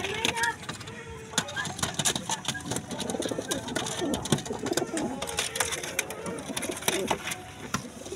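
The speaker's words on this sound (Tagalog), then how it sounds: "Nag-aaway na lang ang kalapati ng mga kalodi." Pigeons coo and scuffle close by as they fight, with soft repeated coos, fluttering and shuffling, and a faint engine in the distance.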